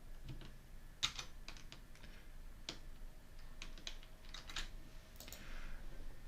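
Scattered clicks of a computer keyboard as shortcuts are tapped in a spreadsheet program, a few isolated keystrokes and small clusters, quiet and close in a still room.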